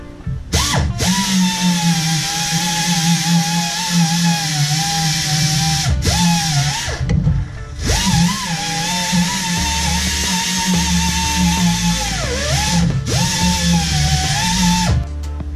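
Power drill spinning a coarse red abrasive pad against a surface, loud continuous whirring that strains and dips in pitch as the pad bites, stopping briefly twice before restarting, no talk.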